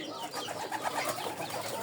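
Pigeons coo softly in short, repeated throaty calls, fairly close, with faint background noise.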